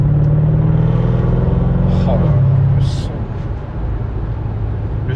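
A Mercedes C63 AMG rumbles heavily from inside the cabin, its engine and exhaust droning loud and steady, the pitch dropping slightly as the car eases off, while occupants talk briefly over it.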